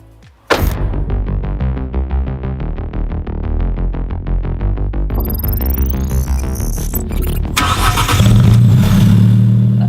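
An Alfa Romeo 4C sports car engine fires up with a sharp burst, then settles into a loud, rhythmic pulsing idle before revving harder and building toward a throaty roar as it pulls away.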